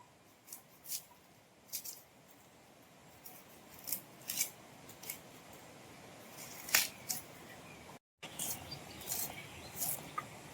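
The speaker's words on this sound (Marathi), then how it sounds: "आता याच्यावरती मी कांदा कापून घेते आणि खोबरं किसून घेते" An onion is cut on a traditional floor-mounted blade (vili), giving repeated crisp slicing scrapes at a steady, uneven rhythm, close and moderately loud, over a soft background hiss.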